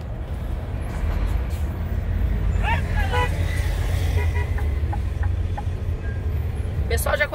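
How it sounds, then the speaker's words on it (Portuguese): Busy road traffic in Marabá rumbles steadily and loudly, with a few short car horn toots sounding in the middle and near the end, and indistinct voices mixed in. "Que loucura é essa do trânsito?"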